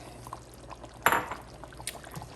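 Pineapple pieces and peas tip into a pan of chicken curry with one brief, soft splashing pour and a faint clatter, quiet and close, with no voices.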